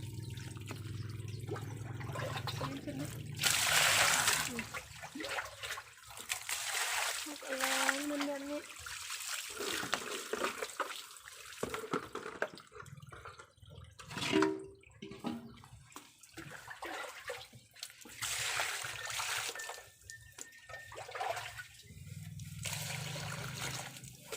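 Small freshwater fish are washed by hand in a basin of water for fermented fish paste, giving splashes, sloshing and trickles that come and go in bursts, with someone talking at times over the water.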